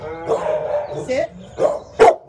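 A big, handsome pet dog gives a few short barks, close and fairly loud, in bursts near the end amid people talking.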